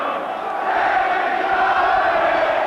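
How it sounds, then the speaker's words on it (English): A football crowd at an Oxford United versus Everton League Cup quarter-final roars after a goal, a loud, sustained swell of cheering and chanting that builds and holds throughout. "There was a real crescendo as Brock took the free kick."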